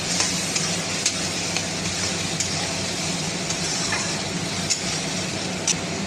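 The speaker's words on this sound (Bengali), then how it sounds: "এখানে পেঁয়াজ বাটা, রসুন বাটাটা দিলাম" Onion paste and garlic paste fry in a pan for chana masala, a steady close sizzle that holds throughout, with light scraping and stirring ticks scattered across it and no voices.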